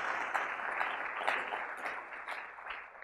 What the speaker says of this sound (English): please do give them a big round of applause for helping us put this conference together